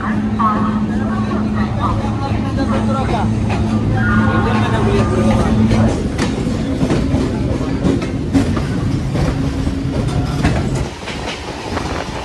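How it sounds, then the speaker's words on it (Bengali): A Howrah to Bandel local train rolls out after leaving Howrah station, a loud close rumble with rhythmic wheel clatter and steady humming tones, while people talk over it inside the coach. "আমাদের ট্রেন ছেড়ে দিল হাওড়া স্টেশন থেকে"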